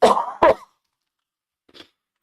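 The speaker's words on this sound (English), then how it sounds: "can't stop coughing" Two quick, close coughs, followed after a short silence by a fainter, softer cough.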